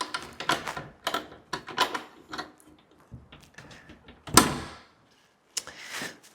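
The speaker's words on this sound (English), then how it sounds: "she's getting nervous about me opening the door" Wooden wardrobe cabinet door handled with a run of sharp clicks, knocks and creaks in uneven bursts, close by, with one louder bang near the end and a brief silence before a final rattle.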